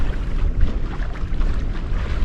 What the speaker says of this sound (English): Just out for a little evening sail.